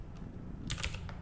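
Faint, quick keystrokes on a computer keyboard during a programming lecture, a short cluster of soft clicks in a quiet room with no talk.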